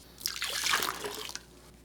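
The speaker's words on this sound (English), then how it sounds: "This is warm water, warm tap water" Warm tap water runs and splashes while the inside of a mead fermenter is scrubbed, a close, fluctuating wash of water swelling and fading over a couple of seconds, with no talking.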